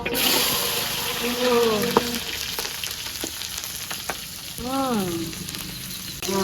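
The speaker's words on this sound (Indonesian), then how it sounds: "lomboke digoreng" Chillies frying in a pan sizzle steadily up close for a Javanese genjer vegetable dish, with stirring knocks and a couple of brief voices murmuring over the hiss.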